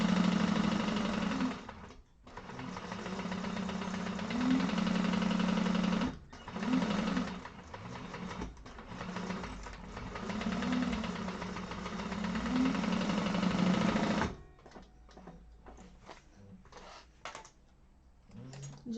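A sewing machine stitching a 3/8-inch seam around a hobo bag, running in steady buzzing bursts with short pauses between them, then stopping, leaving faint handling clicks and rustles.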